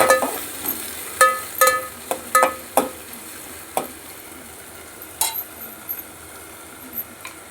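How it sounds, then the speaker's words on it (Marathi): Tomatoes are stirred in a cooking pan with a spoon, giving several close clinks and scrapes against the pan over a soft sizzle, with no talking. "पुन्हा टमाटर टाकायचं, टमाटर पुन्हा असं हलवायचं."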